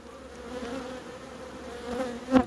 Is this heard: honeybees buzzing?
yes